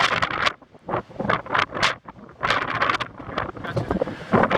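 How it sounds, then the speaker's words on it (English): Strong mountain wind buffeting the microphone in loud, roaring gusts that surge and drop irregularly, with brief lulls between blasts. "It's getting really windy."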